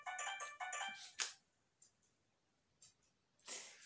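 Mobile phone ringtone going off indoors, a bright electronic melody in short repeated bursts that stops abruptly, followed by a few faint clicks and a brief noisy rustle.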